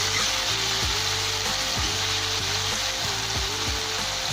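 Onions and tomatoes sauté in a pan for squid thokku, a dense steady frying hiss running throughout, with a rhythmic low mechanical whirring pattern repeating underneath, close and constant.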